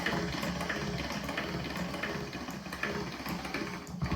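Dough for Algerian griwech being fed through a pasta machine, a steady close mechanical whir and rumble running throughout without pause.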